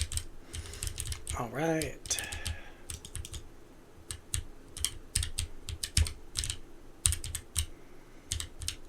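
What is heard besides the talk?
typing on a Keychron K3 V2 keyboard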